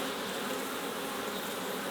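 Excited honeybees buzzing inside a hive during spring beekeeping, a dense continuous hum close by, steady and unbroken with no voices.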